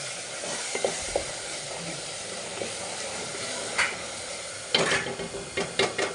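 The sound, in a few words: masala paste frying in oil for tomato rice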